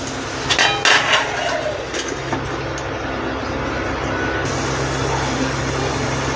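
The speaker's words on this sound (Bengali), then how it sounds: "আমি এবারে ঢাকা দেব।" A lid is set on a cooking pan with a few quick metallic clanks and a rattle near the start, followed by a steady background hiss and hum from the stove.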